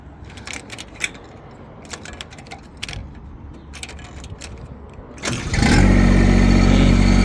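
A Kubota engine on a Macao CT17 Pro mini excavator cranks and catches after a few seconds of clicks and rattling, then settles into a loud, steady diesel idle close by.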